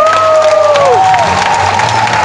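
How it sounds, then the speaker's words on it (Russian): A concert audience at a dance show finale breaks into loud applause and cheering, with a roaring crowd, whoops and shouts, and high whistles sweeping down over the dense clapping. "Аплодисменты."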